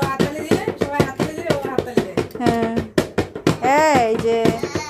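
A child claps hands in quick, uneven bursts at home while a voice sings and chants loudly over the claps, close and lively.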